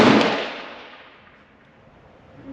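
A single loud gunshot cracks close by at an outdoor shooting range, then its echo trails off slowly into quiet.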